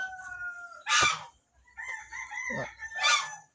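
Two loud heritage-breed rooster crows ring out close by, with softer clucking and chicken calls between them.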